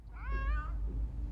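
A cat in the movie Black Christmas (2019) lets out one clear, rising-and-falling meow, fairly close and moderately loud over a low rumbling background.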